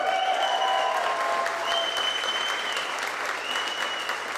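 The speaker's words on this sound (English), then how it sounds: "Round of applause." An audience at the Reverb Live 2012 music event breaks into steady, fairly loud applause with scattered cheers, a dense continuous patter of clapping.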